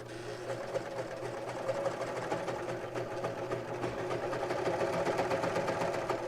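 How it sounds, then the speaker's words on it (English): A 4-thread serger runs steadily, stitching and trimming the edge of thick fabric for a triangle bag, with a continuous rapid mechanical whir and hum held at an even level throughout. "we're going to go back over to our 4-thread serger"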